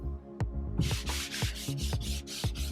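Cloth rubbed briskly over cedar timber to work in hemp oil, a series of about six close, rhythmic hissing strokes following a short quieter start, with no talking.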